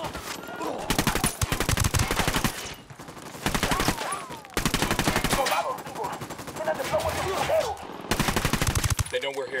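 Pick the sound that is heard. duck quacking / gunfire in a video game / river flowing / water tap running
gunfire in a video game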